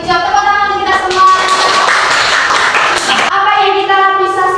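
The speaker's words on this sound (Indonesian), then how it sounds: "Dijawab tepuk tangan kita semua." A class of children claps together in a classroom, a dense burst of hand claps in the middle with sung or chanted voices before and after it.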